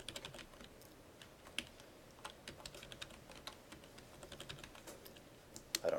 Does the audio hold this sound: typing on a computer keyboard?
yes